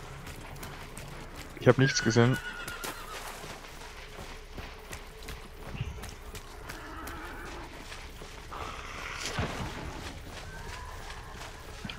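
A horse whinnies briefly in the video game Hunt: Showdown, with some clip-clop and mechanical game sounds around it, while German-speaking players talk over the scene throughout.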